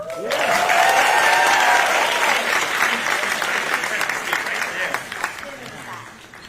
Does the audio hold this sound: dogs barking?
no